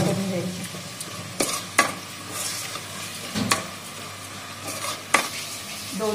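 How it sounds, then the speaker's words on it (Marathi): Chili coriander paste fries in hot oil for chicken khima, giving a crackling sizzle broken by several sharp clinks of a utensil against the pan, with background music underneath. "ते पण तेलामध्ये थोडेसे फ्राय करून घ्यायचे."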